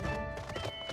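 A horse mount clops along in Final Fantasy XIV, a quick run of hoofbeats close and clear over a tonal music bed.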